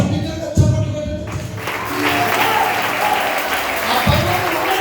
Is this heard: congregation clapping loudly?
yes